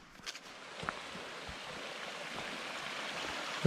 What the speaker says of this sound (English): This is our second creek crossing.